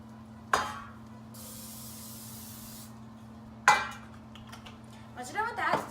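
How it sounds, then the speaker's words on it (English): Cooking spray hisses into a cake pan in one sustained burst lasting a few seconds, framed by sharp metallic clinks of the pan being handled, with clattering at the end. "First, spray your cooking pan with cooking spray."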